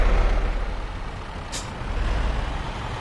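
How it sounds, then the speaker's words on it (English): A truck in Euro Truck Simulator 2 rumbles low and steady while reversing, with a sharp hiss of air brakes releasing partway through, close and clear, with no talking. "let's see if I can back this truck up"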